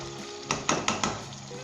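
Aloo gosht of meat and potatoes fries in hot oil over high flame, hissing steadily while a spoon stirs it with four sharp scraping strokes in a row.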